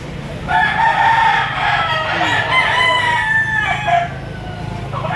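Chickens on a farm crowing and clucking close by, several overlapping calls over a low background murmur.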